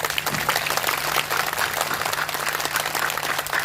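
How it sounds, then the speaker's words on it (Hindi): An audience at a Hindu spiritual discourse bursts into dense, sustained applause, many hands clapping together steadily at a fairly loud, even level without voices over it. "ताली बजा दिया करो, जहां लगा दो, एक बार बजा के दिखा दो।"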